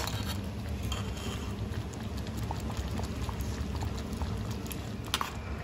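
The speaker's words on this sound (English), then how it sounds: "Just keep it open and give it a nice simmer" Goan potato bhaji simmers in an open pan, giving a steady, soft bubbling and gentle patter that continues evenly throughout, close and moderately quiet with no talking.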